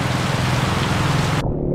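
Heavy rain falls in a loud, dense, steady hiss that fills the air, then cuts off abruptly near the end, leaving a faint low rumble behind.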